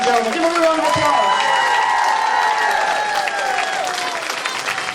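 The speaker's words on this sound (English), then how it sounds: "Give him a big round of applause" A Slavic club audience gives a big, sustained round of applause for a Podhale dancer, with dense clapping and some cheering close by and voices under it.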